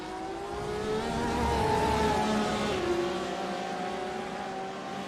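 Race cars lap in a GT and prototype sim racing endurance event at Twin Ring Motegi, engines droning and shifting pitch as they rise and fall past in a steady, fairly loud wash of motor sound.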